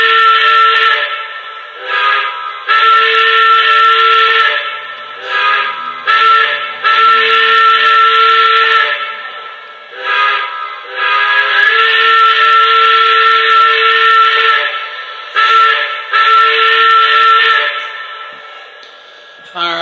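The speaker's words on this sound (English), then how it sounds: "I'm just gonna sound the whistle." A model Lackawanna Berkshire steam locomotive from a Pocono set sounds its steam whistle in a series of loud, sustained blasts of varying length with short gaps, alone with no talking.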